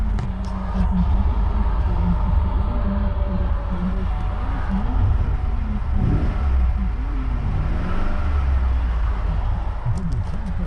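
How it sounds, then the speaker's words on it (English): An older car bought at auction, with its engine warning light on, revs and settles as it shifts through the gears, a steady mid-pitched engine drone running throughout with brief rising surges. "Let's see how she shifts through the gears."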